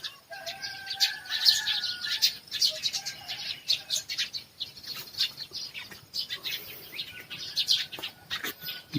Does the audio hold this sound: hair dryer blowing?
no